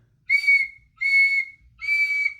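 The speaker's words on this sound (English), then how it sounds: "She got into a terrible rage and blew 3 times upon her silver whistle." A silver whistle is blown three times, giving three shrill, evenly spaced blasts of about half a second each, clear and alone against silence.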